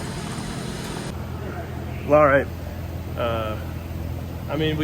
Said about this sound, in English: The engine's on.